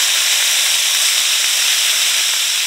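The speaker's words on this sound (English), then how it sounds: "We're going to start by frying our Spam." Steady, dense sizzling of Spam frying in hot oil, a continuous bright crackle and hiss with no pauses.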